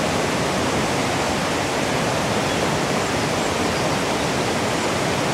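The Todtnau waterfall in southern Germany roars as a steady, dense rush of falling water, loud and unbroken, with no voices over it.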